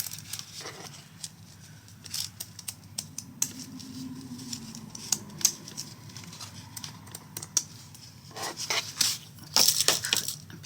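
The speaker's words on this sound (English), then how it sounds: "now I can come in with the pinking shears, cut up to the edge, and then start going around the edge" Pinking shears cut through fabric as a name flag is made, giving a series of soft, close crunching snips in irregular bursts that grow denser toward the end, with quiet pauses between cuts.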